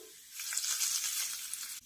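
Hot garlic tempering poured into cucumber batter, a close, bright sizzle swelling at once and hissing steadily for nearly two seconds before cutting off.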